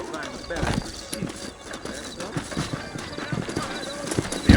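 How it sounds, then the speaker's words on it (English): Horse hooves clip-clop at a steady walking rhythm in the Red Dead Redemption video game, close and clear, with a short whinny and game character dialogue over the top. "You ain't gonna find sturdier horses than these in all of New Ulster."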